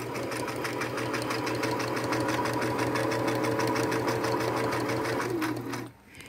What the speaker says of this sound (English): Just simply doing a straight stitch, taking my pins out as I go.